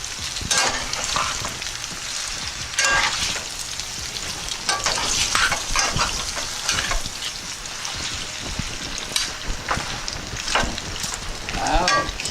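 A spatula scrapes the bottom of a pan where spicy beef is frying, with rapid, irregular scraping strokes over a continuous close sizzle.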